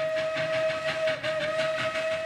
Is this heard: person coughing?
no